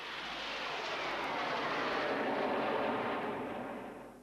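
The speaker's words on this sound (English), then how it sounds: "A trail of red, white and blue across the sky marks the arrival of the Red Arrows." Red Arrows jets at the RAF Leeming air display fly past with a broad roaring whoosh that swells, holds and fades over a few seconds, loud and alone.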